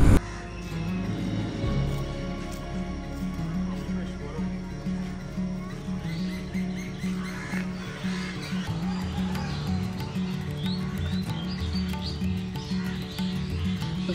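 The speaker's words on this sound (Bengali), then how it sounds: "আমার আশেপাশে পাখি কিচিমিচি সাউন্ড শুনতে পাচ্ছেন" Birds chirp faintly in the background while a person talks steadily in the foreground.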